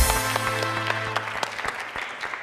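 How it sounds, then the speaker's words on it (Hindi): Talk show audience applauding for Hasan, a short burst of close claps that starts full and thins out over a couple of seconds, with a low hum underneath. "अरे भाई, तालियां हसन भाई के लिए"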